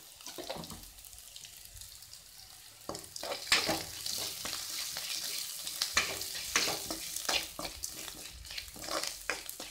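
Onions sizzle in a pan with salt and turmeric, a soft crackling fry overlaid with clinks and scrapes of stirring that grow busier after a quiet opening, close and fairly faint.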